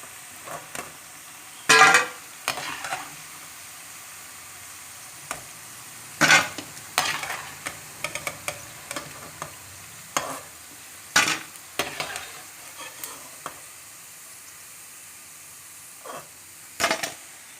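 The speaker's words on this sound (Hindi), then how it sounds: "ये देखिए हमारे पकौड़े फ्राई हो गए हैं।" Besan pakoras fry in oil while being turned, giving scattered scrapes and clinks of a utensil over a faint, soft sizzle. The bursts are intermittent and close.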